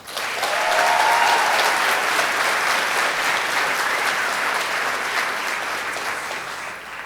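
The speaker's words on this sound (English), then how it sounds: "Let's give a round of applause for the teachers of Allen Park High School." Crowd at a high school commencement ceremony applauding the teachers, a steady wash of clapping that swells in the first second, holds for several seconds, and slowly thins toward the end, with a brief cheer early on.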